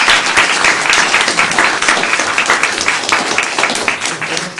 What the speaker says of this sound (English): a big applause for the panel